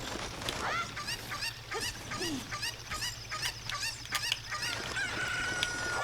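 A Cucco chicken in the video game Zelda: Ocarina of Time clucks and squawks in a rapid, busy series of short calls, mixed with other game sounds over a low steady drone.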